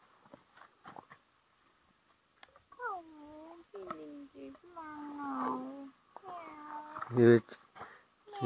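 A cat meows several times, drawn-out and close, with soft rustles and handling noises between the calls.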